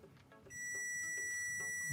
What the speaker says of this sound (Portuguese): caímos naquela questão do bip em medida de resistência abaixo de 50 ohms